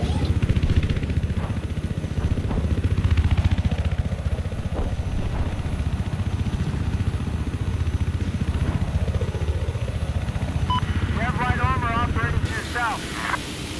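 A helicopter in the video game Battlefield 4 gives a steady rotor and engine drone throughout, with some faint tonal whines near the end.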